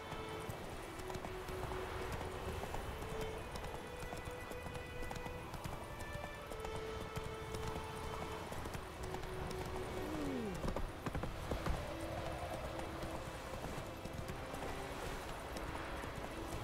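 A horse galloping in the video game The Witcher 3, with steady hoofbeats running continuously under game music and ambient sound, a brief whinny-like sweep partway through.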